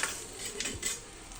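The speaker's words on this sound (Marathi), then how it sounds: "हे बघा अशा प्रकारे आपण ही फोडणी खिचडीत टाकलेली आहे" A soft, steady sizzle of hot oil tempering hisses in a pot of dal khichdi while a spoon scrapes and stirs a couple of times nearby.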